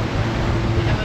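Crowded tourist boat crossing the sea toward Koh Rong island in Cambodia, giving a steady loud rumble of engine, wind and rushing water throughout.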